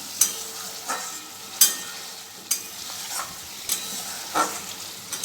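Egg curry cooks in a pan with a soft sizzle, while a utensil scrapes and stirs in sharp strokes roughly once a second, close by.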